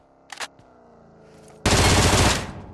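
A loud, sustained burst of automatic gunfire in the video game PUBG Mobile lasts about a second, after a few faint clicks and a low background drone.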